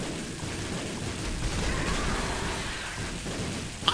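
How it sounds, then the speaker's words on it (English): Explosions in The Binding of Isaac, a dense rumbling wash of blasts and crackle that swells and recedes, ending with a short sharp pop. "Can you hear me over the sound of explosions?"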